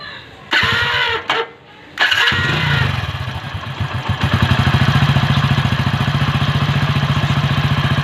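A motorcycle engine starts after a few brief mechanical clatters, then settles into a steady, loud, close idle with an even rhythmic pulse after an engine flush treatment.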